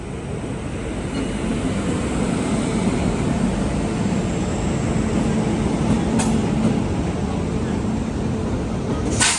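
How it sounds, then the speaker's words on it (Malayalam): The Malwa Express, running from Shri Mata Vaishno Devi Katra to Dr. Ambedkar Nagar, rumbles steadily past a halted train, a loud, continuous roar of wheels and carriages that never breaks. "ഇത് ശ്രീമാതാ വൈഷ്ണോദേവി കട്രയിന്ന് ഡോക്ടർ അംബേദ്കർ നഗറിലേക്ക് പോകുന്ന മാൽവ എക്സ്പ്രസ്."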